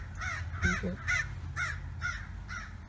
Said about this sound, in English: The crows are going crazy out there.